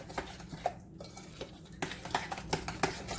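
A utensil stirs black pepper and salt together in a bowl, giving a series of quiet, irregular clinks and scrapes close by, with no talk.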